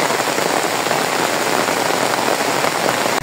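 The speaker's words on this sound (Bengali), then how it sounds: "ভীষণ বৃষ্টি পড়তেছে অনেক" A torrential downpour beats on the ground near a flooding home in Bangladesh, a thick continuous roar of rain that stays loud and constant, ending with a brief knock.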